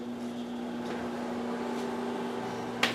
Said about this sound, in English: we're going to place it in the microwave for about 30